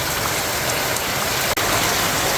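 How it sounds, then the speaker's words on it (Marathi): Light rain falling in a steady, even patter that fills the whole stretch, with no voices. "आज मंद गतीने पाऊस पडून राहिला"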